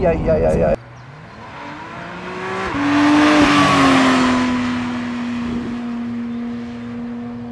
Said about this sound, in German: der Wagen kann bis 9000 Umdrehungen drehen